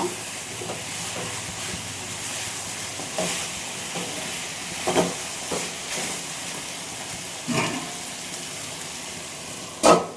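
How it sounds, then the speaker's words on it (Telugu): Chicken roasting in a pan fries and sizzles steadily, with intermittent stirring scrapes and a sharp clatter near the end; no voices. "బాగా వేగాలి చికెన్"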